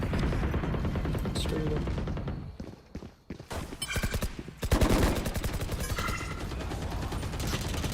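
Bursts of rapid gunfire in the video game Valorant, dense close rattling volleys that drop off briefly then return louder, with players talking over the shooting.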